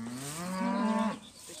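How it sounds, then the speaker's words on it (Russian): A single long, close moo from a cow on a farm, rising in pitch and sustained for about a second before breaking off, over faint background noise with no speech. "Знаете, здороваются все коровы."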